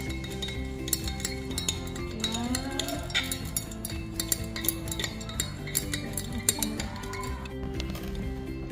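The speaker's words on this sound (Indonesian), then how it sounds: "bahannya dalam bentuk padatan sehingga ini perlu diaduk hingga lama ya" A solid is stirred into a solution in laboratory glassware, with repeated light glassy clinks and taps of the stirrer against the vessel, steady and close, over faint background noise.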